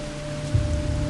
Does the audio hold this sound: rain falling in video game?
yes